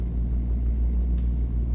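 A truck in American Truck Simulator, modded with realistic sounds, rumbles with a steady, deep engine drone that holds constant throughout, with no one speaking.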